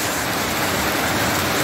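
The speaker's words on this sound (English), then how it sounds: "Rain is falling." Steady rain falling in Sunderland, a dense, even hiss that holds constant and fairly loud throughout, with no voices or other sounds standing out.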